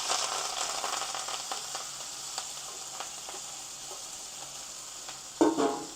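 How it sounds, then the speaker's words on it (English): Onion, scallion and carrot sauté in olive oil in a pot with a continuous bright sizzle and crackle, close and steady, with a short clatter near the end. "I have my pot filled with olive oil, so I'm going to be sauteing my garnishes at this moment."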